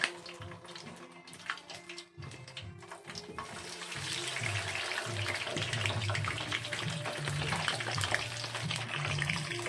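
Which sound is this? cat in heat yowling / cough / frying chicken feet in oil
frying chicken feet in oil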